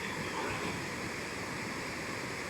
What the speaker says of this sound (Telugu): ఇది వాటర్ ఫాల్ అయితే దేవరపల్లి సరియు వాటర్ ఫాల్స్